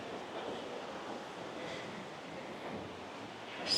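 Ocean surf at Sao Beach on Phu Quoc island, Vietnam, rolls in as a steady broadband wash with soft wind, continuous and moderately loud, without voices.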